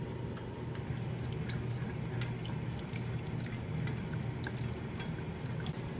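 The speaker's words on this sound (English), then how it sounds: "Let's add in our water first." A steady trickle of water pours into a pan beside diluted strawberry jam, a continuous splashing flow at close range with no talking.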